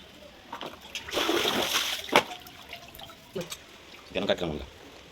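Water splashes and sloshes as gongura leaves are washed by hand in a bowl, with a burst of splashing early on, a few drips and trickles, then another short splash near the end.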